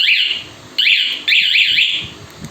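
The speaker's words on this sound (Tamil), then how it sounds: "இது அலாரம் பட்டன் சும்மா வண்டியில் சவுண்ட் மட்டும் வரும்" A motorbike security alarm triggered from its remote alarm button gives loud, close, warbling electronic siren bursts that repeat in three waves.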